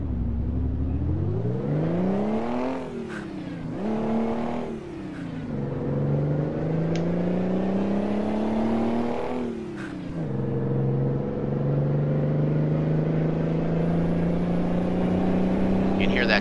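A Mack Superliner truck engine in American Truck Simulator rumbles nearby, revving up and dropping back several times through gear changes before settling into a steady deep drone, with someone talking over it.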